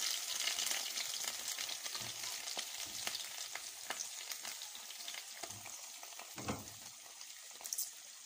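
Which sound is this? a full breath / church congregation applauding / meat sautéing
meat sautéing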